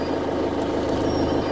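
A manual car pulls away in first gear as the clutch is gently released, a steady low engine drone running close and even throughout with no talk.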